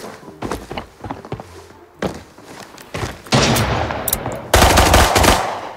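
Gunfire in a shooter video game: loud repeated shots and automatic bursts, growing denser and louder toward the end, with a few thuds between.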